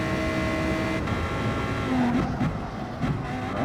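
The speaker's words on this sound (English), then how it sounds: "Court stays out, as does Jovial Manatee, so he will continue to chase and harass the Lamborghini." A GT race car engine drones steadily in a racing video game at Mount Panorama or Barcelona-Catalunya, with pitch shifts as it changes gear and brief tire squeals, moderately loud and without talk.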